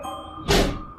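A single dull thud lands mid-clip against a quiet room hum, with a short ringing tail fading afterward.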